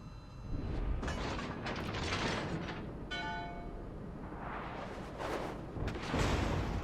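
Naval gunfire in a warship video game featuring the Bourgogne and a Republic battleship: distant booms and shell impacts rumble under steady engine and sea ambience, with a few sharper hits.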